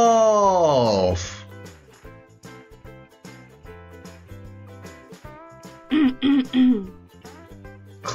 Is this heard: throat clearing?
yes